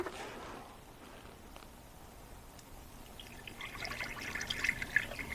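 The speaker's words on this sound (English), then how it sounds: "As I'm putting coolant in the radiator" Concentrated Mopar antifreeze coolant, mixed with water, is poured into the radiator of a Dodge Grand Caravan, giving a faint, steady liquid trickle that grows slightly louder and more splashy toward the end.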